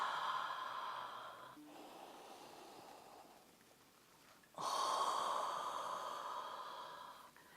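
Slow breathing in through the nose and out again, heard close and soft as a long airy inhale and then a stronger breathy exhale, with no talking.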